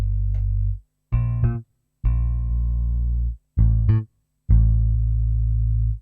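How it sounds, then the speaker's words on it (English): A Roland TB-03 synthesizer bass line plays alone in short, punchy notes with gaps between them, loud and resonant with a buzzy, rich low tone. "This is only the bass sound, and now with the TB3."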